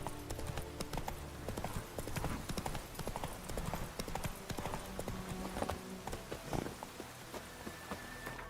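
Horse hooves clip-clop in a steady walking rhythm on Roach, the horse in The Witcher 3 video game, with game ambience and a faint whinny in the background.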